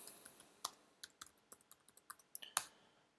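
Light, crisp keystrokes on a computer keyboard as a search is typed, about a dozen quick taps in an uneven rhythm, close and quiet with no talking.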